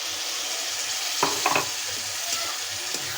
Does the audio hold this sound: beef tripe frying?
yes